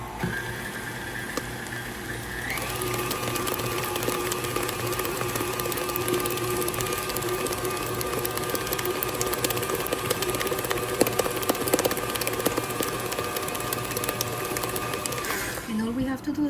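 An electric mixer whirs steadily through carrot cake batter, starting up after a few seconds and running at a constant pitch before cutting off, with someone speaking faintly beneath the motor.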